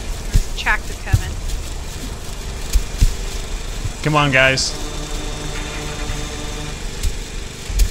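A tractor engine in the video game Death Tractor rumbles as a low steady drone beneath frequent excited talk from several players, with no clear separate approach or pass.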